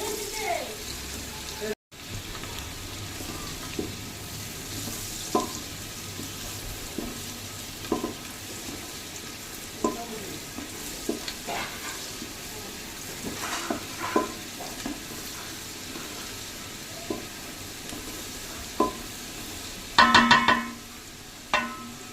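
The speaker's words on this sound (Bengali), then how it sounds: "ভালো করে নাড়ছি, এটা হালকা ভাজা ভাজা হবে।" Chopped green chillies fry in a pan for butter garlic rice, giving a steady close sizzle broken by repeated scraping and clinking as they are stirred, with a louder rattle near the end.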